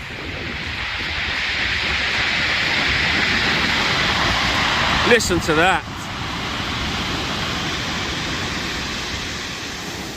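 Heavy sea swell and surf pounding the shingle at Chesil Beach, a steady loud broadband roar filling the whole stretch, with someone briefly talking over it.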